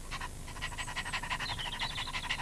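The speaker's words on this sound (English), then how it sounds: "You silly Bumpy Dog, what are you doing" A cartoon dog pants in quick, rhythmic breaths, close and steady throughout with no talk over it.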